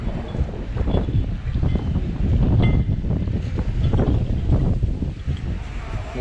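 Wind buffets the microphone aboard a boat on the sea off Japan, a steady, loud low rumble that stays constant with no talking.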